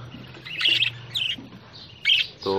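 Budgerigar chicks and adult budgies chirp in short bursts, close and fairly loud, with a few separate calls spread over the stretch and a faint hum underneath.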